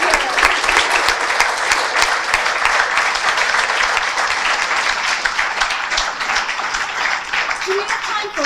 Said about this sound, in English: So let's give a round of applause for these women and for all the people here.